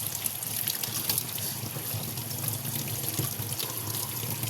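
Water runs steadily from a tap while something is washed under it in a kitchen, probably ingredients for a bangus fish tinola, giving a continuous splashing hiss with small clatters and no talk.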